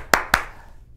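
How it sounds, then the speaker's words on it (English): Two sharp hand claps close by, spaced about a fifth of a second apart, then quiet; a thin, sparse clap rather than a full audience. "Let's give a warm round of applause for my Uncle Fumbernutter the magician."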